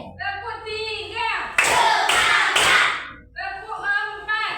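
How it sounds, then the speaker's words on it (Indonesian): Children in a classroom clap their hands together in a loud burst lasting over a second, between stretches of chanted voices before and after. "Coba tepuk 1, tepuk 2, tepuk 3"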